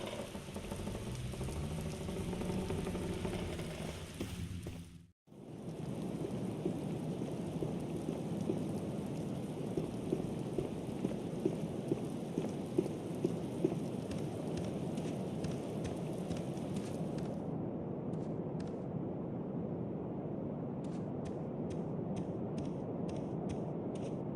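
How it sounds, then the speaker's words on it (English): Steady rain and wind ambience from the video game The Black Mirror, entering a room through a hole in a window; a dense, continuous wash with a brief dropout near the start and faint ticking patters partway through, no talk. "The hole in the window lets cold wind and rain enter the room."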